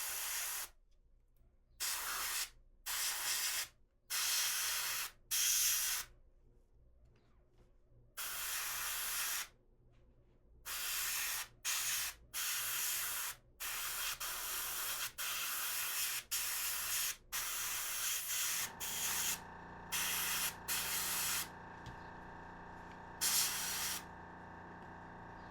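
An airbrush spraying paint gives repeated short bursts of airy hiss separated by brief silences, close and moderately loud, with the later bursts coming in quicker succession.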